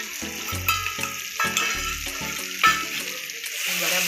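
Turmeric, red chili powder and salt are stirred in a hot pan for palak dal, with a sizzling, frying crackle under repeated scraping strokes of the spoon.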